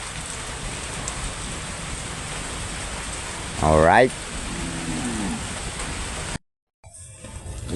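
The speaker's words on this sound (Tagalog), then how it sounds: "mahina na ang ambon" Steady light rain patters throughout, a soft continuous hiss, with a brief spoken word partway through before a short dropout.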